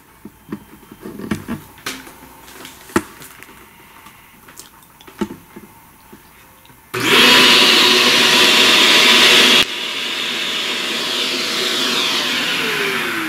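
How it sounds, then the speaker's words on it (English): After some light clicks and handling noise, a vacuum cleaner starts up loud and close, a steady whooshing roar that shifts to a slightly different pitch partway through and keeps running to the end. "a lot of vacuuming to do."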